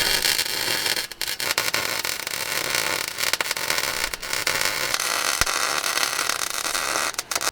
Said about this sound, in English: And now we can start welding.